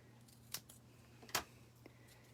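Scissors cut through a paper die-cut arm: two crisp, close snips about a second apart, then a fainter third, over a quiet room hum.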